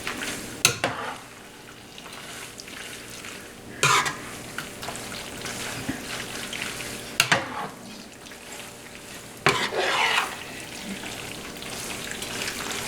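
Garlic shrimp stirred around in a pan, a soft steady sizzle broken by a few sharp scraping clatters of the utensil against the pan at intervals, close and fairly quiet with no talking.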